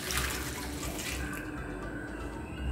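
Hot beef stock pours into a cooking pan with a steady, close splashing rush that thins out partway through, with no talking over it.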